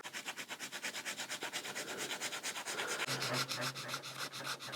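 A guitar body finish is wet-sanded with 800 grit sandpaper, a soft rhythmic rasping of quick back-and-forth strokes, close and fairly quiet with no talk.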